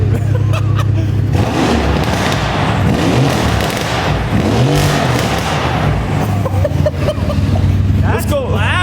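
Straight-piped Mercedes-AMG C63 S with new downpipes, its engine rumbling loud and close with rising revs and throttle blips, while people talk excitedly over it.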